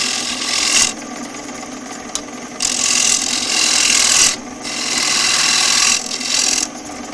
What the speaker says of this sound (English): I'm just cutting from the center out, just hollowing out the box.